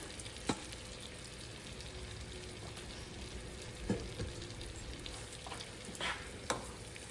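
Celery, onion and carrots cook in a pot, giving a low, steady sizzle with a few sharp knocks and scrapes from a spoon against the pot, fairly quiet and without talking.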